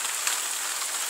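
Steady rain falls on a rainy day, a dense continuous hiss of drops on surfaces with no pauses or voices, even and moderately loud throughout.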